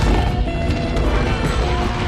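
A dense, roaring blast of noise that stays loud and rumbling throughout, like a cinematic explosion with crashing debris, no voices, from Transformers: The Last Knight.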